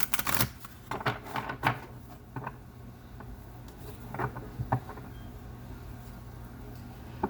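Oracle cards riffle and slap in quick bursts, then soft shuffling continues quietly at close range.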